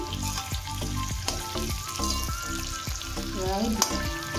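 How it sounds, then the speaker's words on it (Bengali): Onion and capsicum fry in a pan for chilli chicken, a soft sizzle under repeated scraping and knocking strokes of a spatula stirring at an uneven rhythm, with no talking. "আমার পেঁয়াজ আর ক্যাপসিকামটা ভাজা হয়ে গেছে"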